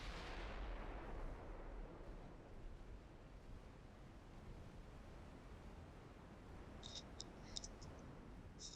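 Warship gunfire in Ultimate Admiral: Dreadnoughts, a deep rumbling boom at the start fading into a low, faint roar, with a few sharp distant clicks near the end.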